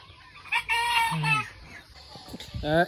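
Local chickens on a small village farm cluck and call in short bursts close by, with a brief crow-like cry near the end, over faint background noise.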